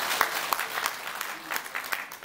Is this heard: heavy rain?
no